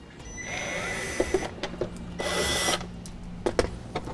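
Screws are backed out of the threshold plate of a 2014 Toyota FJ Cruiser, with two short bursts of a whirring power driver among light clicks and handling noises, close up.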